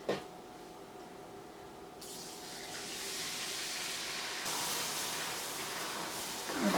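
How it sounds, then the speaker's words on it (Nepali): Water is poured into roasted wheat flour in a pan while making halwa, a soft steady gushing hiss that swells and then holds at a faint level, with no talking. "यसमा चाहिँ म पहिला सुरु 1 कप पानी राख्छु"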